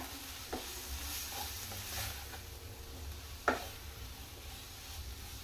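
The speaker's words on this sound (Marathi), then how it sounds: "आमचे 1 मिनिट भर ताका फ्राय करूया, कित्याक आमी मसाले घातले" Egg curry masala frying in a pan, a soft, fairly faint sizzle with a couple of light utensil taps and scrapes, one sharper clink near the middle; no voices.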